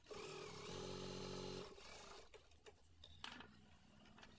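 A blouse-stitching sewing machine hums steadily for about a second and a half, then stops, leaving a few faint clicks and handling noises.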